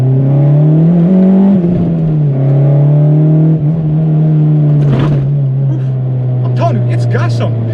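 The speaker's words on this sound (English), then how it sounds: "it's got some pickup for being a little 2-liter engine" An Acura RSX Type-S with a 2-liter engine pulls from inside the cabin, a loud steady engine drone rising and shifting through gears, with someone talking over it.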